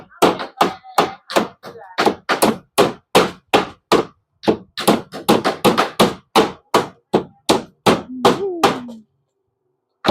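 Steady hand hammering: loud, close blows land at a fast, regular pace of about two or three per second and keep going for about nine seconds before stopping.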